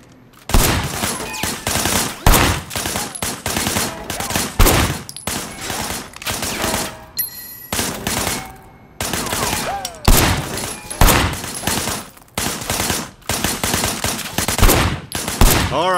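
Loud, rapid gunfire from Sleeping Dogs, shots fired from cover behind a barricade, coming in repeated close bursts with only brief pauses between volleys.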